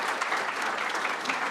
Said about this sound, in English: A big clap for Myra.